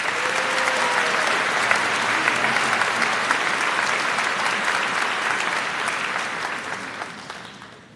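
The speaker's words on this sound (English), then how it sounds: "to Elaine, please join me in honoring her with a round of applause." A crowd applauds at a high school commencement, dense sustained clapping from a large audience that carries on evenly and then starts to taper off near the end.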